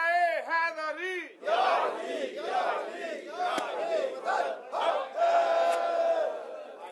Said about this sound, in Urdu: ہاں جناب. نعرہ حیدری.